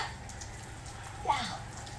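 Steady rain patters down, a soft continuous hiss with a faint splash and muffled voices in the background.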